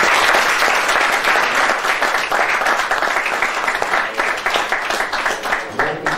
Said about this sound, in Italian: facciamoci un bel applauso di un bel...